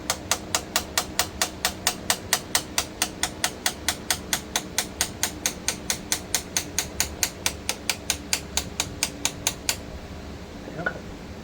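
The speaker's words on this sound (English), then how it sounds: "So I'm just going to use a chisel and a hammer." Steady hammer blows on a chisel, tapping a Turbosmart control-in-cap onto an existing turbo wastegate; about forty sharp, evenly spaced metallic strikes, close and fairly loud, stopping near the end before a faint rattle.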